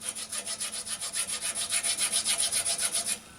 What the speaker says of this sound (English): When taking these slots down, you want to be very careful not to go down too far.